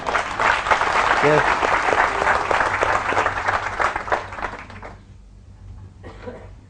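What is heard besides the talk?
audience applause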